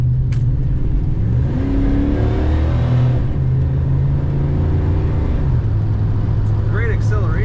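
A 1984 Chevrolet El Camino engine revs up and falls back, with a loud rising and falling engine drone close to the microphone and a brief squeal near the end.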